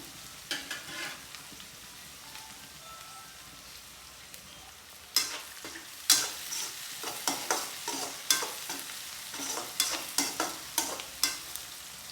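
Onions sauté in a pan on a gas stove: a low, quiet sizzle at first, then louder, rhythmic stirring scrapes and crackles repeating every half second or so, close up with no speech.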